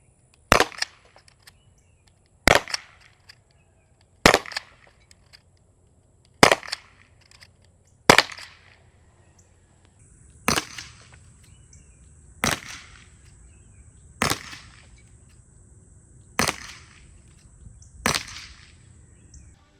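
Ten sharp shots from a concealable .61 caliber defense airgun, a five-shot launcher firing balls, sound in two strings of five with roughly two-second gaps, each a crisp loud crack with a short tail and no talk.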